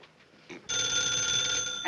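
Telephone ringing in a 1952 Three Stooges comedy, a sudden bright electric bell ring starting after a short quiet pause and sustained to the end, with a soft knock or scrape just before it.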